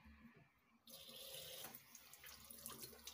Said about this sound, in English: wash our hands 3 times